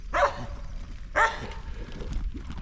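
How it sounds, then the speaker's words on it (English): A dog on a rutted, rough farm road gives two short barks about a second apart, fairly close, over a steady engine-like rumble. "Here comes a dog."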